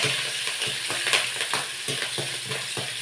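Dry red chillies with green chillies frying in hot oil for tomato rice, a close steady sizzle with soft stirring scrapes and small pops, no talking.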